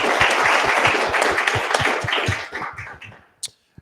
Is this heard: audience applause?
yes